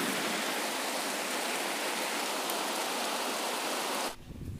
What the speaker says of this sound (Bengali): মানে কন্টিনিউয়াসলি বৃষ্টি, কন্টিনিউয়াসলি বৃষ্টি একভাবে